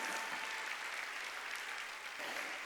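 A church congregation at a Sunday worship service applauds together in a soft, continuous wash of clapping that sounds fairly distant and lasts a few seconds.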